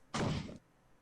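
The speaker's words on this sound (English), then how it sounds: "He then retired, closing the door behind him with a forced bang." A door shuts with one forced bang in a game set in Victorian London, a short, full, loud thud that cuts off abruptly and leaves quiet behind it.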